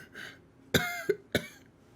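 Three short, sharp coughs close by, spaced a fraction of a second apart in a quiet room.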